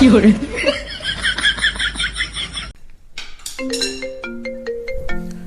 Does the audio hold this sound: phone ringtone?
yes